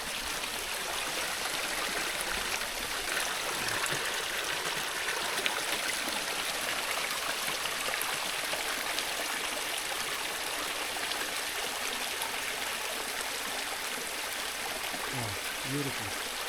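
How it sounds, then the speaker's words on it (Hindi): A mountain spring stream runs through dense Himalayan forest, a steady, close rush of flowing water that holds unbroken throughout, with a faint voice briefly heard near the end. "यहाँ पे एक स्रोत है पानी का"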